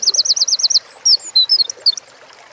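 A white-throated dipper beside a mountain stream in the Pyrenees gives a fast series of loud, high, rolling trills, then a scatter of shorter sharp whistled notes, close and clear.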